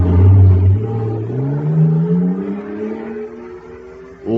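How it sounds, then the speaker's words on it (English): Radio drama effect of a supercharged atomic jet car running on super fuel, a loud whining roar that climbs steadily in pitch as it accelerates, ending with a sharp burst of noise. "Listen to that fire-controlled jet car go now."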